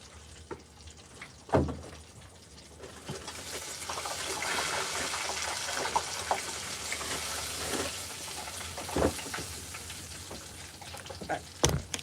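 Bottled spring water pours onto potted plants, a continuous hissing splash that builds and stays steady, with a few louder knocks and taps.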